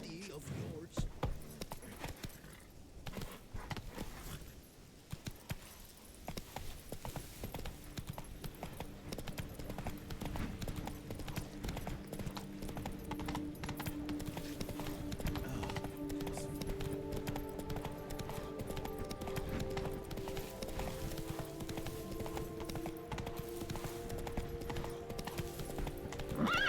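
Horse hooves in The Witcher 3: Blood and Wine, a steady clip-clop of a ridden horse at a trot, with occasional snorts and game music tones building underneath, and a voice speaking briefly.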